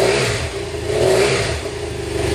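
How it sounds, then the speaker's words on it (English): A stock-exhaust 2013 BMW 800GS motorcycle engine revs up and holds at a steady, loud throttle, a continuous close-up drone with slight swells, no talking over it. "Jason's gonna rev it up for us a little bit."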